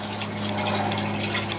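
Water pumped out of an aquaponic tank in a greenhouse: a steady, close rushing gush with a constant low motor hum underneath, continuous and unbroken, with no voices.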